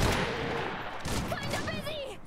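Rapid gunfire bursts in the Iron Harvest 1920 game, crackling shots layered under excited talk from a player.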